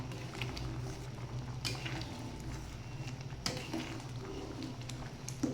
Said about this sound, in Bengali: এভাবে ডাল ফোটা এবং ভাত যখন হয়ে আসে ফোটে, দেখতে কিন্তু বেশ ভালো লাগে।